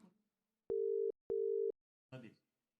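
Two long ringback tones on a telephone call, each lasting about half a second with a short gap between them, clear and steady, followed by a brief burst of speech.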